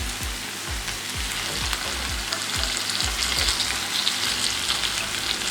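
Mutton chops fry in masala on a hot tawa, a loud, close, continuous sizzle and crackle with rhythmic stirring and scraping strokes.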